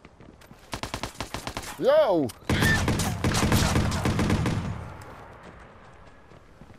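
Rapid bursts of gunfire crackle in Watch Dogs during free roam, followed by a heavy volley that fades out. Someone briefly shouts between the shots.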